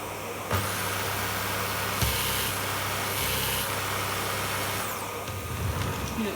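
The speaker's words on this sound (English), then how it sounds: "I just like to hear the power head run in." A Miele Revolution 500 vacuum cleaner runs with its power head spinning, giving a steady, close whirring roar with a few brief shifts in tone.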